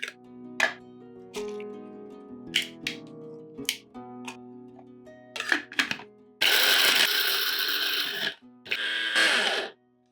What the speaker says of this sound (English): you want to move them to this coffee grinder and then just buzz them until they are a fine powder